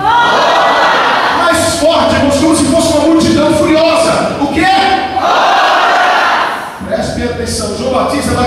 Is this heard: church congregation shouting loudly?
yes